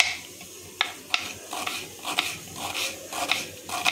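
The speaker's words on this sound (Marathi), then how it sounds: "इथे कांदा चिरून घेणार आहे मी" A knife chops onions finely on a cutting board in a kitchen, giving a close, steady series of sharp taps and scraping strokes.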